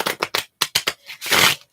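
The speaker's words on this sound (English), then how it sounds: "wait there patiently while I shuffle the cards" Tarot cards are shuffled up close in a quiet ASMR setting, giving a quick series of crisp riffling flicks followed by a longer, smooth shuffling burst.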